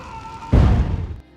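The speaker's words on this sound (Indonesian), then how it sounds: "Tak lama terdengar suara ledakan dari dalam" A sudden loud, deep boom bursts in after a faint tone, rumbling for about half a second before cutting off.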